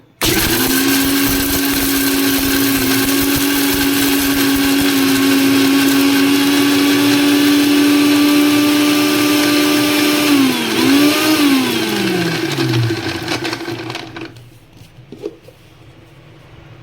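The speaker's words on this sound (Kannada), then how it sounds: "ಇವಾಗ ಮಿಕ್ಸಿ ಮಾಡ್ಕೋತೀನಿ ನೋಡಿ" A mixer grinder runs close and loud, grinding garlic and spices for kuska rice with a steady high motor whine. Near the end the pitch wavers, then the motor winds down and stops, leaving quiet.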